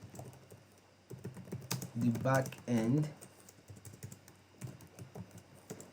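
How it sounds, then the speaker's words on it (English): Computer keyboard typing while building a React and Django productivity app, a quick run of clicky keystrokes heard in bursts under a person talking at close range. "I don't know why I'm typing like this"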